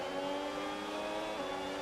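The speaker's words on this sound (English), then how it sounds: "Oh, bogged down in the gears and in the revs." An F1 car engine in the F1 26 racing game bogs down at the race start, a steady strained drone with held tones that sag briefly and then recover, heard alone at low level.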